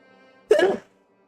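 A single short sneeze, sharp and close, bursting out of near silence and fading quickly.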